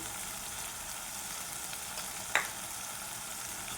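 Ground coriander, cumin and turmeric sizzle in hot oil for a mutton curry, a steady close frying hiss with one sharp utensil clink partway through.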